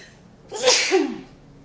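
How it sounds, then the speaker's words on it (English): One close, forceful sneeze, a sharp breathy burst with a voiced tail, alone in a quiet room. "I have to sneeze"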